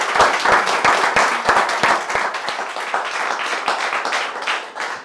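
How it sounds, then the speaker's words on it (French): An audience applauds the panelists at the close of a French panel discussion on labour shortages, a dense burst of hand clapping with sharp individual claps early on that thins gradually toward the end. "Je crois qu'on peut applaudir les panélistes."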